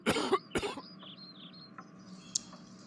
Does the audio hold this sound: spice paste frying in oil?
no